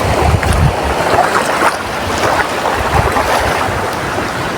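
Steady surf and rushing seawater along the Konkan shore, with knee-deep water near the beach and wind buffeting the microphone, a continuous loud wash with no talking.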